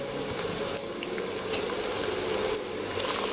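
Chopped onions hitting hot oil in a home kitchen pan for a stinging catfish curry, giving a steady, close broadband sizzle that holds evenly for the whole few seconds with no talk.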